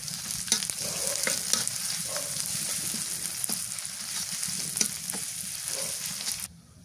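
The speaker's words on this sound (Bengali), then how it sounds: "পেঁয়াজ কুচি দিয়ে দিই।" Chopped onions fry in oil on a village clay stove for a goat head and brain curry, a constant crackling sizzle with spatula scrapes and taps scattered through, ending abruptly.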